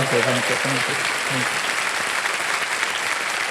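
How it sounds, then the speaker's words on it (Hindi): A studio audience on a quiz show applauds loudly and continuously, with a voice briefly calling out over the start before the clapping carries on alone. "एक बार फिर ताली बज जाए इन लोगों के लिए।"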